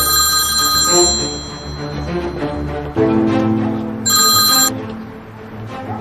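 A telephone rings for an incoming call, its bright electronic bursts repeating over a low background of dramatic music, with one final louder ring burst near the end.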